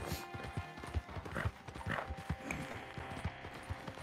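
Steady clip-clop of a ridden horse's hooves in Red Dead Redemption 2, quiet and regular with an even rhythm and a faint snort or whinny in the mix.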